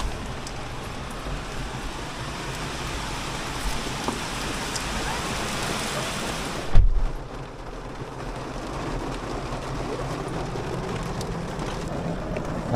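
Heavy rain pours steadily in a dense, continuous hiss, with a brief louder thump midway before the downpour carries on.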